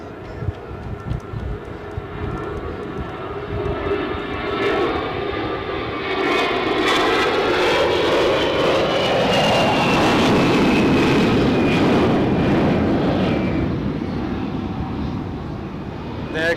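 A jet airliner, probably a Saudia aircraft, roars past at Zurich airport, its engine noise swelling loud and close with a shifting whine before easing slightly at the end.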